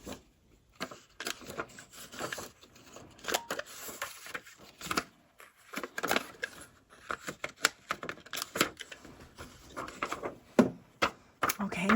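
Old book pages cut down by hand for vintage journal pocket stuffers, giving irregular close crisp snips and paper rustles with short pauses between bursts.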